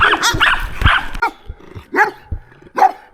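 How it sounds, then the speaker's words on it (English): Dogs bark repeatedly during a Tennessee trail ride: a dense cluster of overlapping barks, then separate loud barks at irregular intervals. "More dogs."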